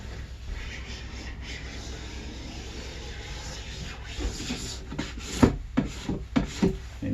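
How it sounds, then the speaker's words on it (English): Scraper rasping base wax off Madshus rental skate skis, a soft steady rubbing that turns into several sharper, louder strokes toward the end. "now I'm scraping the base wax off"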